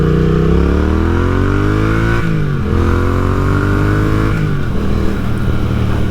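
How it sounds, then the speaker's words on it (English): 2024 Triumph Speed Twin 900 parallel-twin motorcycle engine while riding, a loud close exhaust drone climbing in pitch through the revs, dropping at two gear shifts and then pulling again. "So this parallel twin motor, which, you know, it doesn't have as much vibration as I thought it was going to."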